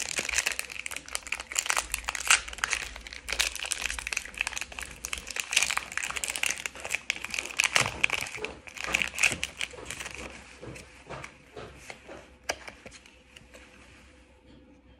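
Crinkly foil wrapper of a Pokémon trading card booster pack being torn and peeled open up close, with dense crackling and rustling that continues throughout and eases off near the end.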